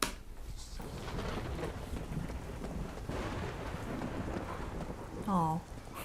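A thunder sound effect opening a K-pop song intro, a low rumbling roll with rain-like hiss at moderate level, followed near the end by a short bright musical phrase, with no talking.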